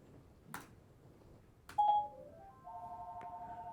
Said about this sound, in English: I thought I turned off my phone.